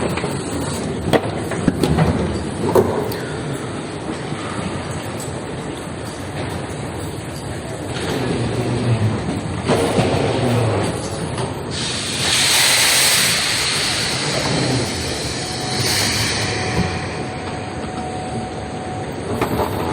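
Inside a train station in Mashhad, a Fadak train rumbles and rolls along the rails with a long metallic hiss and squeal swelling midway, over a steady din of station noise and no clear speech.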